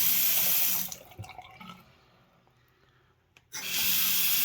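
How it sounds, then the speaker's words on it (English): Tap water from a just-repaired leaking kitchen faucet rushes loudly and steadily at first, drops away to near quiet for a couple of seconds, then gushes back on at full strength. "turn the water back on,"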